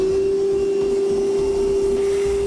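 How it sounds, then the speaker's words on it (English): A vacuum cleaner runs loud and close with a steady high whine, sucking up metal drilling debris from holes drilled while fitting a Curt fifth wheel installation kit to a 2013 Chevrolet pickup. "We'll now vacuum out all the material that we just drilled out."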